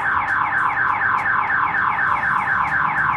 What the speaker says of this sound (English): Doesn't matter, alarm is going off, lights are flashing